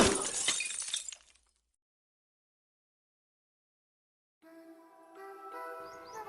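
Window glass breaks in a sharp crash with tinkling fragments for about a second, then silence, then a faint tonal background.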